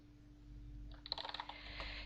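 Quick bursts of keystrokes on a computer keyboard as a text command is typed, a short run of close, crisp clicks over a faint steady hum.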